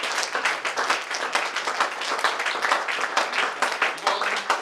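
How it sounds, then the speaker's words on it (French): An audience at a Pointe-Noire anniversary celebration of a marriage applauds a couple with dense, continuous clapping that holds at a steady level throughout, like a crowd filling a hall. "Je vais une fois de plus applaudir très fort ce magnifique couple pour débuter une nouvelle vie."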